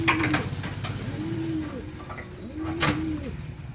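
Pigeons in a cage give repeated soft throaty coos, several rolling calls close by over a quiet background, with faint rustling between them.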